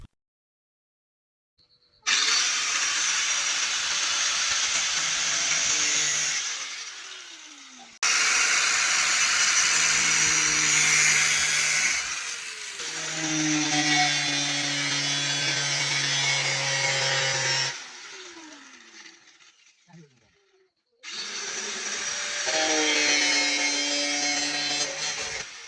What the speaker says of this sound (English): we now cut the pipe to size using a grinder